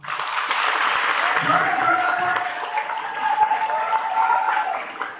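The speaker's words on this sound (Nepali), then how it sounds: "तपाईँहरूले जोडले थपडी मारिदिनुहोस्" An audience in a hall claps loudly and continuously for several seconds at a talk, the dense applause holding steady without a break.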